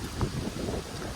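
Wind gusts across open water by a river at the onset of a rainstorm, a steady low rumbling buffet on the microphone through the whole short stretch, with no voices.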